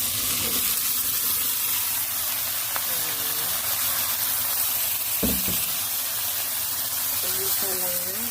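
Young pumpkin stir-frying in a pan gives a steady close sizzle and hiss, broken by a few scraping stirs of a utensil. A voice talks over it now and then.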